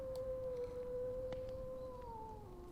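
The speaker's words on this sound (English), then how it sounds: "The sounds of crackling fire and howling wind filled you with anger or sympathy." A sustained, mournful whistling howl of wind from the video game Chasing You holds a steady pitch, then sags lower toward the end, over faint background noise.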